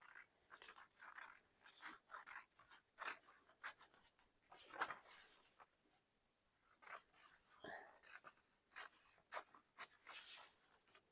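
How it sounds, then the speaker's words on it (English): Scissors cut decoupage paper from the back along a straight line, giving a series of close, irregular snips and rustles with short pauses between cuts, quiet and up close. "Then I'm going to try my best to cut a nice straight line."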